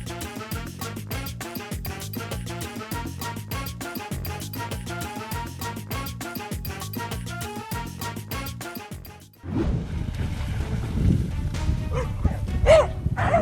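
Dogs bark amid a fight with a boxer, the yelps and barks first sitting under a driving, rhythmic music track, then coming through a rougher, noisier scuffle as the music drops away.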